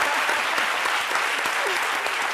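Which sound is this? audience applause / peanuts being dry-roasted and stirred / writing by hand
audience applause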